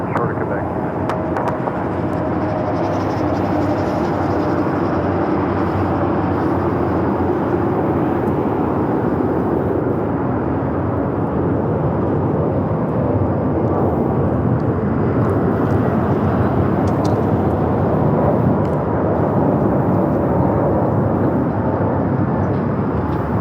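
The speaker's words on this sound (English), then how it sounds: "Another heavy arrival. Turkish flight 179, committed from Istanbul, and then A350-900." A Turkish Airlines Airbus A350-900 heavy arriving at Los Angeles airport, a broad steady jet roar holding loud for over twenty seconds, with a voice talking over it.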